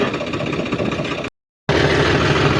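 A farm straw machine's engine runs steadily and loudly nearby while being emptied, with a brief full dropout partway through before the same continuous rumble resumes; no talking.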